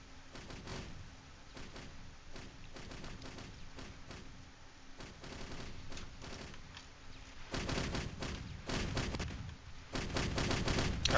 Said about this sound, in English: Artillery here doing some work.